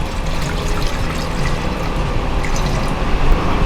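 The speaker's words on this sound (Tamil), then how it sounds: "இப்போ 200 மில்லி அளவுக்கு தண்ணீர் சூடு பண்ண போகிறோம்" Water poured into a pan for heating while making rava halwa, a steady close trickling and splashing flow that runs evenly for a few seconds with no talk.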